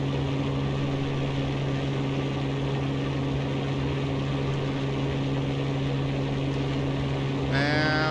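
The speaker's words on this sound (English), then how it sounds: "So I'm going to put our throttle back to idle." A simulated aircraft engine in X-Plane 11 drones at idle after the throttle is pulled back, a steady low hum with constant harmonics running unbroken throughout, with a brief rising tonal sweep near the end.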